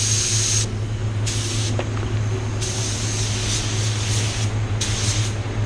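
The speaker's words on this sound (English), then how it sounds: "this just needs a control coat, a mist coat, a cloud coat." A spray gun lays a light mist coat (cloud coat) of paint, hissing in four separate bursts, the longest about one and a half seconds, over a steady low hum.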